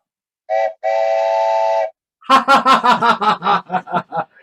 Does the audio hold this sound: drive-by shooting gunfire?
no